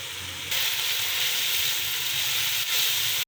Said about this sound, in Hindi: अब हम इसमें ये सब्जियाँ डालेंगे